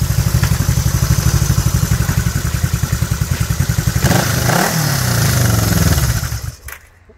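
A Honda two-cylinder motorcycle engine, a classic CB-series bike under restoration, runs loud and close with a rapid pulsing beat. It revs up into a rising roar partway through, then cuts out and falls silent.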